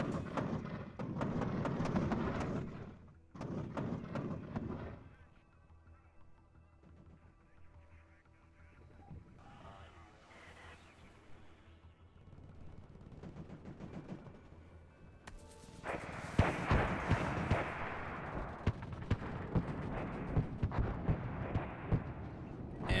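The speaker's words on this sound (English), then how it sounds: "I use my grenade launchers again and do some fire close support for my Spetsnaz here" Grenade launcher fire support in the real-time strategy game WARNO, with rumbling explosions and dense bursts of battle noise, a quieter middle stretch of distant fire, then loud, sustained crackling impacts up close.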